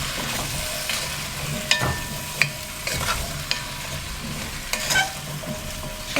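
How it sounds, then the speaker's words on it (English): A spoon stirs vegetables seasoned with pepper for a cranberry pot roast, scraping and clacking against the pot in irregular strokes over a low steady sizzle, close and fairly loud, with no talking. "A little bit of pepper. And I'm just going to give this a mix."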